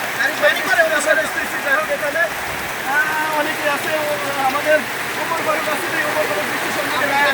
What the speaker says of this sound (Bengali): বৃষ্টি প্রচুর মুসল ধরে বৃষ্টি হচ্ছে